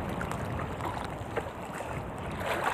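Steady, strong Amihan monsoon wind at sea on a handline fishing trip roars and buffets the microphone, with a dense rushing noise that stays constant throughout.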